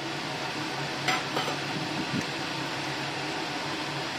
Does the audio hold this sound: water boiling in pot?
yes